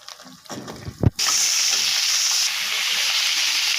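Potatoes tipped into hot oil with cumin, bay leaf, onion and tomato burst into a loud, bright sizzle after a brief clatter of handling, then hiss steadily close by.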